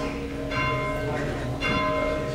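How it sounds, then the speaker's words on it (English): A single church bell rings the Angelus at All Saints, North Street, York, its strokes sounding at a steady pace and lingering with rich overtones in a reverberant space. "this is not full circle, it's just a Angelus bell."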